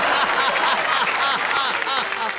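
Audience applause at a stand-up comedy and poetry show, a dense, steady burst of many hands clapping at once, loud and close, filling the whole moment with no pauses.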